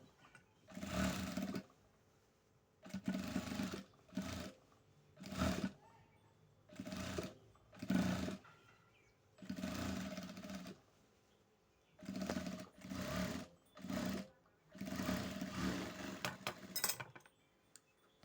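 A sewing machine stitches dress fabric in short, repeated bursts of a fast whirring run, each separated by brief pauses, fairly close and alone.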